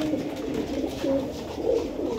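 Old-line pigeons kept for sale in Bangalore coo in low, steady murmurs that swell slightly at intervals, close by and continuous without talk.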